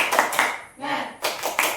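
A classroom group does a rhythmic spirit clap, bursts of clapping hands in a patterned beat, broken by a short gap where a voice calls out before the clapping resumes.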